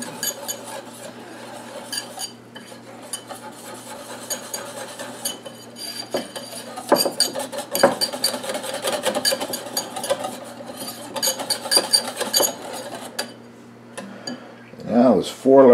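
Whisking crepe batter of flour, salt and water in a bowl, a steady close scraping and clinking of utensil against the bowl running throughout, with a louder clatter near the end.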